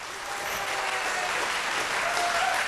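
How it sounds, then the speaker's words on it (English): An audience at a televised vocal competition show bursts into sustained, loud applause for two contestants. The clapping stays dense and steady throughout. "Round of applause for those two."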